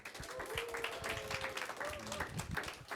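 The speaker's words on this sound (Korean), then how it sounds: "우리 큰 박수로 환영해 주셨으면 합니다" A church congregation at a Saturday afternoon revival meeting claps to welcome a speaker, a quiet, dense patter of applause with a voice speaking over it.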